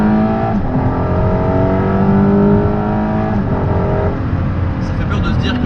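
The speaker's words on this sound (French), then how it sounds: "même le son du moteur derrière se réverbe à l'intérieur" Ferrari LaFerrari hypercar's rear-mounted engine heard from inside the carbon cabin, a loud, steady droning tone that rises and shifts in pitch as the car accelerates, with a faint voice murmuring underneath.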